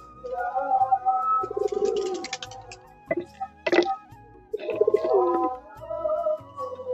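Pigeons at feeding time give soft, throaty coos, several calls in a row with short pauses between them, fairly close in a quiet indoor space. A sharp flutter or tap sounds briefly in the middle.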